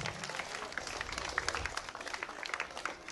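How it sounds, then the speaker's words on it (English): Applause from an audience at a summer sports camp closing ceremony at a sports club in Goa, a dense, steady clatter of many hands clapping throughout, fairly close and sustained. "So really, once again, a big round of applause for this special initiative to Mr. Warren Alimau."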